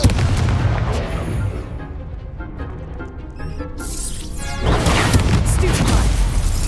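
Blasting spell explosions in Hogwarts Legacy, a loud booming burst followed by a crackling, crashing roar that swells again toward the end amid game effects.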